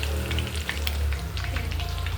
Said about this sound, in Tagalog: prito pa ako ng isda